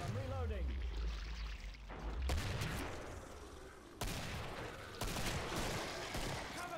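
Gunfire from the video game Killing Floor comes in dense bursts and volleys alongside loud game effects, with a voice talking over parts of it.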